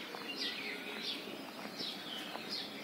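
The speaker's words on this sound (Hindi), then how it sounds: "देखो चिड़ियों की आवाज़ है, गौरैया की" Sparrows chirp in the morning outdoors, with short bright calls repeating roughly every half second over faint background noise.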